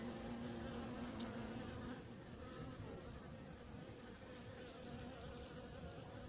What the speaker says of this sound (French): les abeilles sont en train de rentrer.